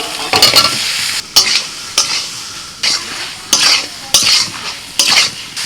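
Fried potatoes are stirred into sizzling spice paste in a wok, with about eight loud, rhythmic scraping strokes rising over a steady close frying hiss.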